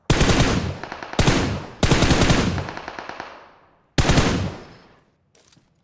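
Automatic gunfire in PUBG Mobile comes in four loud, close bursts of rapid shots, each ringing out briefly before the next, ending with a faint short burst.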